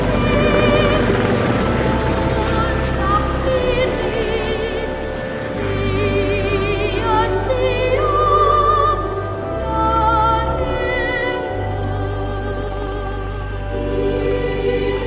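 A Sea King helicopter flies nearby, its low, steady rotor and engine drone running continuously and loudly, with brief swells and dips in level throughout.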